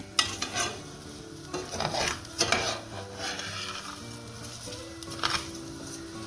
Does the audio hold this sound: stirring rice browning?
yes